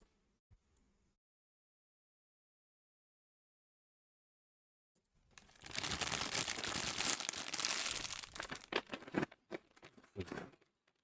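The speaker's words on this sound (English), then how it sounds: "plastic bag noises" A plastic bag crinkles and rustles up close for several seconds after a long near-silent stretch, a dense scratchy crumpling that breaks into a few sharper crackles before stopping.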